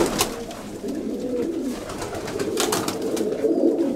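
Domestic pigeons in a loft on Santorini coo with soft, low, repeated throaty calls over a busy background of wing flutters and scuffling, fairly close and steady throughout.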